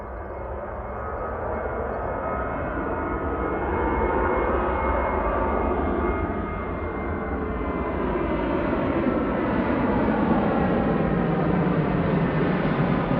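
A Boeing 737-800 bound for Brussels Charleroi rolls and takes off from Manchester Airport, its jet roar building and swelling steadily over several seconds, loud and sustained with no speech.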